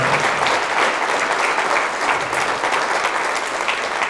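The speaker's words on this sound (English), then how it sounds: "let's start by giving a round of applause for the staff of the Winona Public Library and the friends of the Winona Public Library" An audience at a Winona Public Library speaker series event claps steadily in a dense, continuous round of applause that stays loud and even from start to finish.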